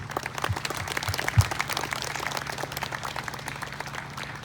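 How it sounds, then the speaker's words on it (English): Applause from the crowd at an outdoor dedication of a Hmong-Lao Vietnam veterans memorial statue, moderate and somewhat distant, with scattered louder claps and a low steady hum beneath. "Please join me in a round of applause and appreciation."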